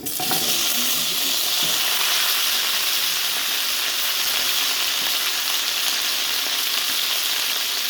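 Loud, steady sizzling of chicken frying in a hot pan with spices for Afghani chicken, a continuous crackling hiss with occasional pops, close up.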